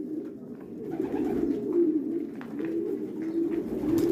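Pigeons coo continuously in low, rolling murmurs at a pigeon farm, several birds close by, forming a steady soft chorus with no talking.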